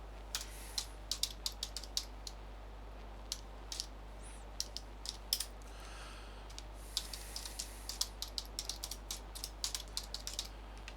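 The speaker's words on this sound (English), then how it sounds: "just watching me do some typing" Computer keyboard keys clatter in irregular bursts of quick taps, close and crisp over a steady low electrical hum.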